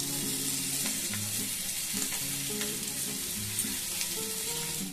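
Potatoes fry in a pan with turmeric, salt and Kashmiri chilli powder, giving a steady close sizzle with a few soft stirring scrapes throughout, and no voices.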